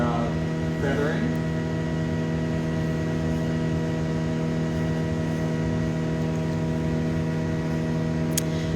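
Steady low hum of a glassblowing reheating chamber hotter than a 2050-degree furnace, heating blown glass to smooth out feathered lines, a constant droning tone with no talk.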